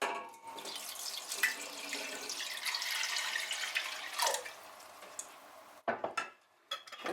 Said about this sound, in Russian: Заливаем также холодной водой.